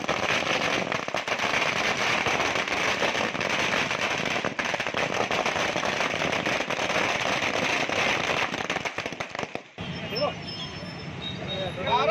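Firecrackers set off at a patriotic celebration by party workers, a long dense stream of rapid crackling bangs that stops near the end, leaving crowd murmur and voices.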